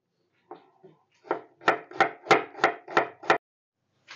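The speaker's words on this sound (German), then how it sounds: "Und hier noch ein kleiner Trick beim Zwiebelschneiden." Onions chopped with a knife on a board while making veal cream goulash: a few tentative cuts, then a steady run of about seven crisp, evenly spaced chops, close and clear with no talking.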